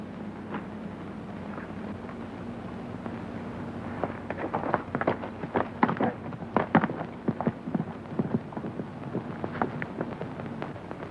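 Horses set off in a 1937 western, their hooves clattering in loose, uneven bursts that build and grow denser over a low background hum.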